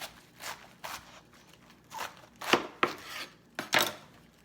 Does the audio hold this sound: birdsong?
no